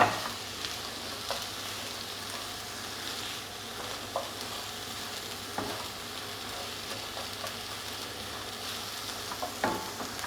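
Lentils for a one-pot lentil bolognese cooking in a pot as they are stirred, with a faint steady sizzle and occasional soft clicks and scrapes of the spoon.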